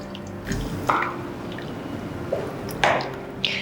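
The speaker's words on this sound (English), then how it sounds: "I'm going to pour some of the curry in there." Nyonya asam fish curry poured from a Thermomix into a dish, giving a few soft, wet splashes and drips at close range, fairly quiet with no talking.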